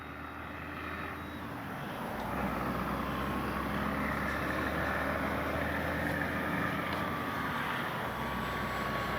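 A Dynam BF-109 radio-controlled warbird model airplane flying overhead, a steady electric motor and propeller drone that swells slightly louder partway through and holds, heard over light outdoor background, with no talk.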